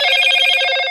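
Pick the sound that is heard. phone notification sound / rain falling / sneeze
phone notification sound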